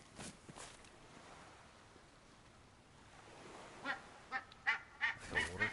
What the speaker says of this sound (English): Crazy goose.